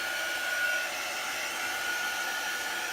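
A hair dryer blows steadily at close range, drying chalk paste on a transfer project, and holds one constant whoosh throughout with no talking.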